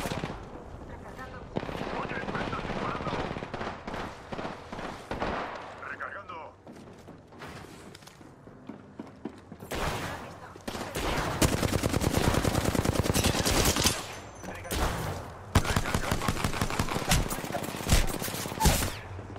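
Bursts of rapid gunfire in Apex Legends Arena mode, loud and close, arriving in long dense volleys and separate sharp shots, with someone talking excitedly between and over the firing.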